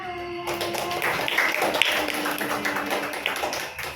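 A classroom group gives applause for the first student group, a dense burst of hand claps starting after a short pause and continuing steadily for a few seconds at moderate loudness.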